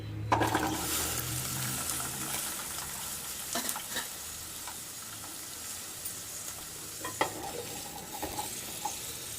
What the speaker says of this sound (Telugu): ఒక 2 మునక్కాయలు బాగా కడిగి నీళ్ళంతా ఆరిపోయిన తర్వాత దీంట్లో వేసుకొని ఫ్రై చేసుకోవాలి.